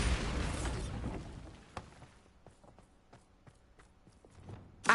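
A Bombarda spell explosion in the Hogwarts Legacy video game: a loud, broad blast at the start that fades over about a second, followed by scattered quiet clicks and taps.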